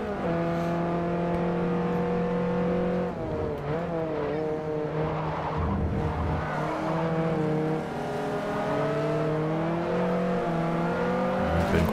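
A race car engine roars steadily in Forza Motorsport 4 while slipstreaming down a speedway straight, a loud sustained drone with gear shifts and pitch swells rising and dipping across the run.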